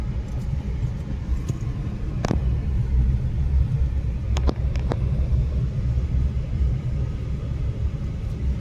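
Low steady rumble of stopped road traffic on a Pune road near the Indrayani river, idling engines in a continuous drone with a few faint brief clicks and taps, no voices.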